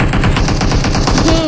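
Rapid automatic gunfire in an online shooter game, a loud, dense, evenly spaced burst of shots filling the whole moment, with a brief whistling tone near the end.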